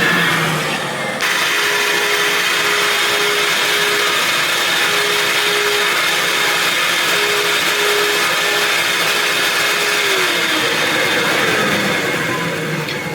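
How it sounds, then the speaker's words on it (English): A motor runs loud and continuous on a test stand with Chevy double hump cylinder heads, holding a strained, droning tone with a steady whine before easing slightly near the end. "Motor sounds like it's not happy."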